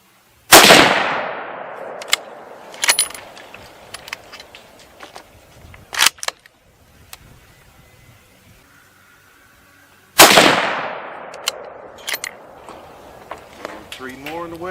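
Rifle fired with .243 Winchester Remington Core-Lokt Tipped ammunition at a 100-yard target, two loud sharp shots spaced about ten seconds apart, close to the mic, with echoing tails, faint handling clicks and quiet talk between.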